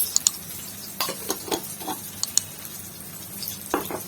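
Brinjal fry with turmeric being stirred in a pan: a soft sizzle underneath sharp scraping clicks of a spoon against the metal at irregular intervals.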